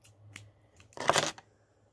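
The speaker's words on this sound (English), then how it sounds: "Cut my yarn" A quick snip of scissors cutting yarn, a short crisp cut preceded by faint rustling handling sounds, close and quiet.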